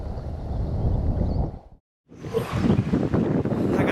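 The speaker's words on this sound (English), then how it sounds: "That wind's just ripping in here." Strong wind ripping across a lake on a fishing boat, a heavy roaring buffet against the microphone that cuts out briefly midway and then returns just as loud.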